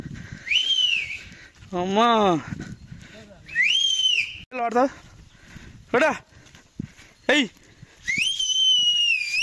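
Loud, rising-and-falling human whistles repeat in several short bursts on a mountain pilgrimage trail on foot to Srisailam, Munnanuru to Vatavarlapally, with people talking in between.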